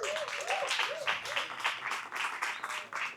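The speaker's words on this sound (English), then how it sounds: "Let's give him another beautiful round of applause." A small audience at a networking cocktails and conversation event gives a scattered round of applause, individual claps audible in a light, uneven rhythm, fairly quiet.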